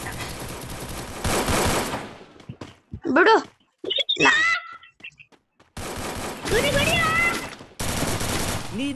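Rapid bursts of automatic gunfire from a video game shootout against enemies come in several dense volleys, loud and close, with excited talking voices breaking in between the bursts.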